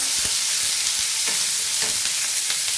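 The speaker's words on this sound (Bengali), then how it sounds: "এবার আমি পেঁয়াজটাও দিয়ে দেবো আর ক্যাপসিকামটাও দিয়ে দেবো। এটাও এখন ভালোভাবে ভেজে নেব।" Onion and capsicum frying in a pan for soya chilli give a steady, close sizzle with a few soft spatula scrapes and taps across it, and no voices.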